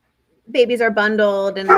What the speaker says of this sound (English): oh, someone's dog barking.